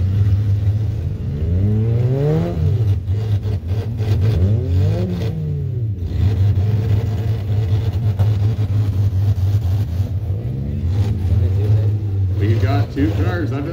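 Demolition derby cars rev their engines at a county event in Gravenhurst, a loud, constant engine roar with rising and falling revs, under an announcer's voice throughout.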